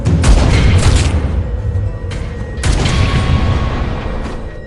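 Gunshots from the film Downrange ring out in several loud, close bursts with reverberant tails, fired repeatedly in quick succession.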